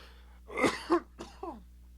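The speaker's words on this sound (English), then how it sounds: "I don't have to hear you cough on live air" On a live sports radio broadcast, someone near the microphone clears the throat and coughs in a few short, close bursts against a quiet studio background.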